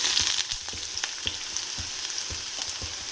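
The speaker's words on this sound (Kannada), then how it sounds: "ಈರುಳ್ಳಿ ಹಾಕ್ಕೊಂಡು ಮತ್ತೆ ಫ್ರೈ ಮಾಡ್ಕೊಳ್ಳೋಣ" Capsicum and onion fry in hot oil in a pan for gobi manchurian, a close, bright, steady sizzle broken by regular soft knocks and scrapes of stirring.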